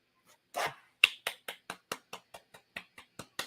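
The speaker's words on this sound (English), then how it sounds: "I'm giving Christy claps" Hands clap in a brisk, even series of about eleven sharp, close claps after a softer opening sound, each clap distinct with short gaps between.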